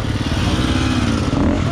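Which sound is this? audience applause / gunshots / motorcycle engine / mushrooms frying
motorcycle engine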